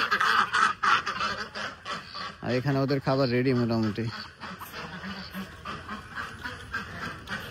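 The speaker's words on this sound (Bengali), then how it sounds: "এই যে হাঁসগুলা প্যাক প্যাক করতেছে" White Chinese ducks on a duck farm let out a burst of nasal quacking for about a second and a half, while someone talks nearby before and after.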